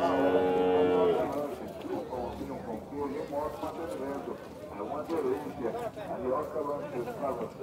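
Cattle at a livestock fair in Campina Grande, Paraíba, where dairy cows and replacement stock are sold; one loud, drawn-out moo opens the clip, then people talk over a busy crowd background.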